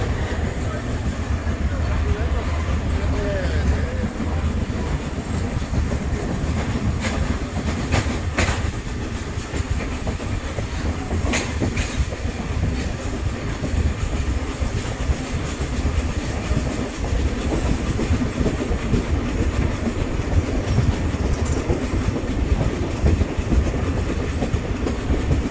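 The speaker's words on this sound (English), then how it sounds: "the locomotive is a G8 from 1954" A 1954 EMD G8 diesel locomotive hauling a train, with steady rumbling wheels and rhythmic clickety-clack of rail joints throughout, plus occasional metallic clanks and sharp bursts, heard from aboard the moving train.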